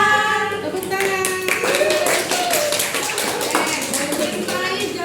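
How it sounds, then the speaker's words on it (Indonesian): A group of people claps in a classroom lesson, a brisk, close burst of applause that keeps going throughout. "Tepuk tangan."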